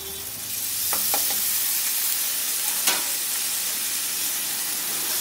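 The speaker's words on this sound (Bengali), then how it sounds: "এখন চালটাকে একটু মশলার সাথে নেড়ে নিচ্ছি।" Rice being stirred with spices in a hot, sizzling pan for a Bengali tomato rice, a steady close frying hiss with a few scraping stirs near the start, no talking.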